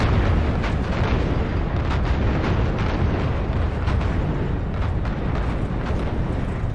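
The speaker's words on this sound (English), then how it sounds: "Let's get visual on that tower detonation." A tower detonation explodes in the Call of Duty Infinite Warfare video game as a loud, sustained roaring blast with rumbling bursts throughout, and no talking.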